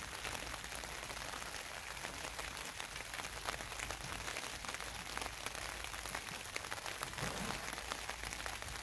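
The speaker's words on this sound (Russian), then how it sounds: "А к нам пришел дождик." Rain falls steadily on a kayak camp beside Lake Baikal, an even, dense patter of drops on surfaces that holds constant throughout with no voices.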